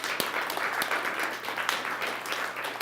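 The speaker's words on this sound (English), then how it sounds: "big round of applause for these volunteers" Audience applause for volunteers at a live body language show, a fairly quiet, steady patter of many hands with a few sharper nearby claps across a few seconds.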